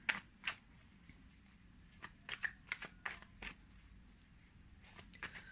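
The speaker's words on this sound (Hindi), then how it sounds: "देखते हैं कि हमारे टैरो से भी क्या कार्ड्स निकल कर के आ रहे हैं।" Tarot cards shuffled by hand in a quiet room, giving a series of crisp riffling bursts in small irregular clusters, close and moderately loud against faint background hum, with no talking.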